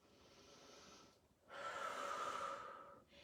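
Heavy, close breathing during a stretching workout: a softer exhale fades, then a long, loud breath rushes in and out for over a second before tapering off, with no talking.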